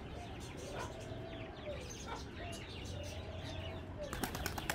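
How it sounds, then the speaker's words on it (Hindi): Wings flap in quick bursts as birds take off and land nearby, over a constant background hum, with a few sharp clicks near the end. "कबूतर सारे आ रहे हैं पानी पीने के लिए"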